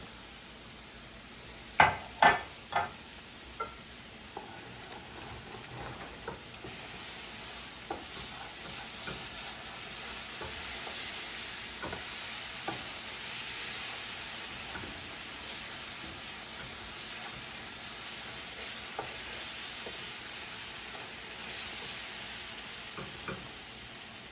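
Red chile sauce made with California and adobo chiles bubbles and spits gently in a pan, with a few sharp spatula scrapes near the start and scattered soft taps over a continuous low sizzling hiss.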